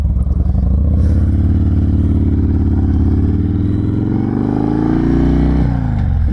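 A Harley-Davidson Dyna Low Rider S motorcycle engine running loud and close, a deep, steady rumble with a slight rise in revs before settling back.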